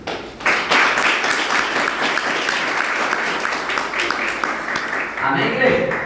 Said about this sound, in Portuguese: Bate palmas, Senhor.